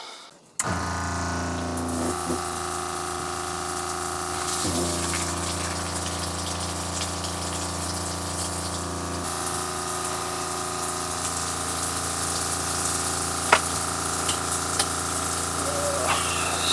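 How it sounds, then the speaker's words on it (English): A water pump in a Peugeot Boxer campervan runs with a loud, steady whine while water from a leaking pipe gushes and splashes continuously nearby, with a few brief clicks. "It's splashing over it all out."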